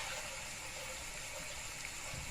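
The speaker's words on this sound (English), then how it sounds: "I'm going to wash the rice until the water goes clear." Rice is rinsed under running water for a homemade vegetable curry, making a continuous gushing splash that fills the whole short stretch at moderate volume.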